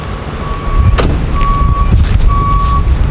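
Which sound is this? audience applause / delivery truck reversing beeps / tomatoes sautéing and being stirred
delivery truck reversing beeps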